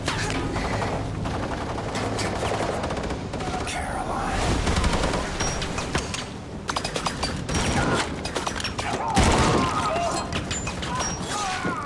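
Dense, loud gunfire with bursts and mechanical clatter fills a cutscene from the video game Wolfenstein 2: The New Colossus, mixed with music and shouting voices throughout.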